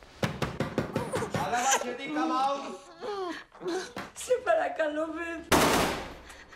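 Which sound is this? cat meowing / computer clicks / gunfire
gunfire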